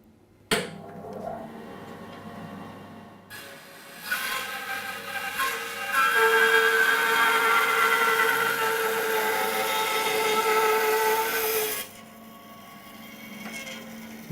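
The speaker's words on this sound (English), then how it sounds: "we're just going to cross cut a bit of 3-inch oak, which will enable us to cut a ball blank out." A Record Power BS350S 14-inch bandsaw with a 1.5 horsepower motor cross cuts 3-inch oak: the motor hums, then the blade rasps steadily through the wood for several seconds before the cut ends and the machine quietens.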